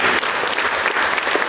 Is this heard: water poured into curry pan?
no